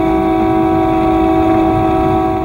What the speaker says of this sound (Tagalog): bumusina siya bilang babala